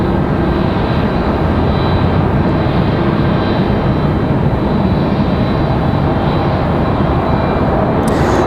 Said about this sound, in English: Ooh, I hear an A220.